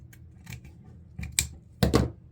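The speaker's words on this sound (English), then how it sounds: "And we'll cut away that ribbon." Scissors snip through ribbon for a front-door wreath, giving a few crisp, close cuts spaced over a couple of seconds, the last two in quick succession, with no speech.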